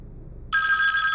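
A telephone rings abruptly in the horror video game Daylight, a bright, sustained electronic bell tone starting about halfway through, loud and alone over a low ambient hum.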